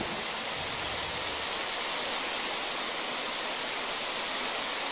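Steady, dense rushing of running water in the video game Fable 2, an even wash like a stream or waterfall that holds constant and fairly faint throughout, with no voices over it.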